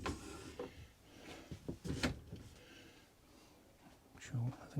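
Drawer in a new family motorhome kitchen sliding open and shut, a few soft thuds and rattles close by, mixed in with someone talking over the top.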